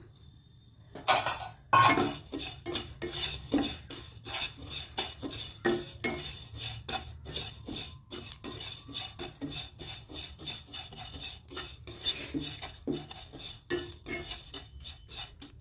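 Cumin seeds dry-roasting in a pan for pickle masala, a dense run of quick metallic scraping and rattling strokes from stirring, close and fairly loud, with no talk.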